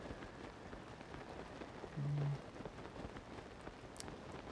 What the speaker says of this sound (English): Little does he know it's raining.